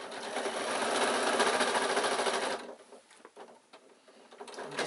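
A sewing machine runs in a fast, even burst while stitching a baby bag, then stops, followed by quieter clicks and handling sounds as the fabric is moved.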